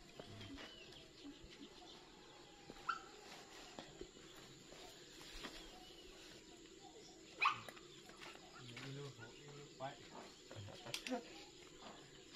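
A hunting-trained dog barks a few times in short, scattered bursts, fairly distant and faint, with pigeon-like cooing and people talking nearby in a quiet outdoor setting.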